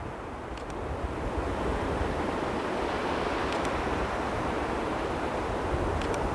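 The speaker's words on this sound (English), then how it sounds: "I'm at a position where the waves are just crashing at the right spot" Big ocean waves crash onto a beach, giving a continuous, full-bodied surf roar with wind rumbling across the microphone and a few faint, high ticks.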